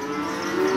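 Cattle at a Tuban livestock market where Limousin and Simmental calves are traded, a low sustained moo carrying over a busy, steady background of crowd and animal noise.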